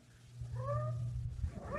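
A cat meows twice in a rising, wavering cry, close by, over a low steady hum of room noise.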